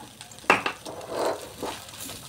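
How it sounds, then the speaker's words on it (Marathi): A masala mixture of red chili powder and salt fries in oil over low heat, giving a soft, steady sizzle with a sharp clank of a utensil against the pan near the start. "चांगलं तेलात परतून घ्यायचं आहे। गॅस कमी गॅसवरच मी हे करते सगळं"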